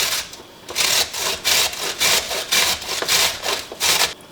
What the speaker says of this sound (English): it's much easier to grate leaving that knob on there